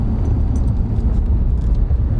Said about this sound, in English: Test out the brakes.